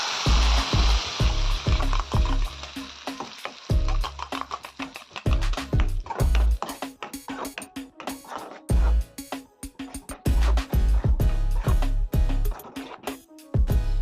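Grated coconut drops into sizzling tempering oil for coconut chutney, setting off loud, close crackling and popping bursts that come in irregular rapid clusters with short pauses between them.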